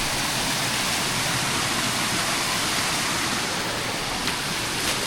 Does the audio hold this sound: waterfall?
yes